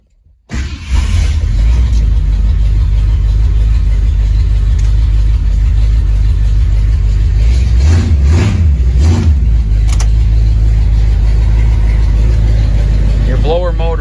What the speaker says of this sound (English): We'll fire this car up.